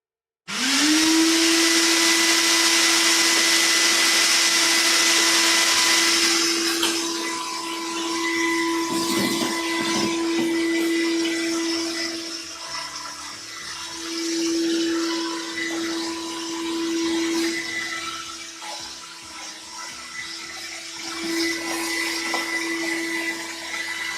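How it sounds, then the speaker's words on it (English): A shop vacuum sucks wood chips and planer shavings off a workshop floor, running as a loud, close, steady whine that starts abruptly and continues for the whole stretch, with rattling and dips as debris is pulled in. "So I'm gonna go ahead and use the vacuum and I'm gonna just clean it out right quick."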